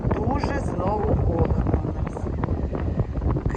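Strong wind buffeting the microphone with heavy low rumble, while a person talks over it close by.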